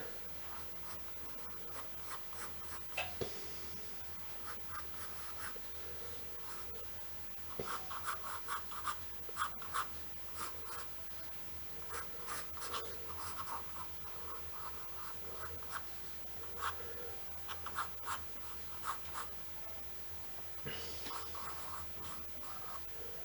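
Quiet, close scratching of a pencil on paper in short strokes and pauses, soft and intermittent.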